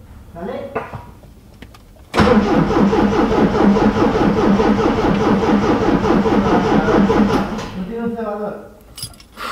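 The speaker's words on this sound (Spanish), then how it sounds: "el starter este, le estoy dando, no abre ni cierra nada" An abandoned Triumph TR7 turns over on its starter motor without firing, a loud rhythmic mechanical cranking that runs for about five seconds after a quiet start, then stops as voices talk before and after.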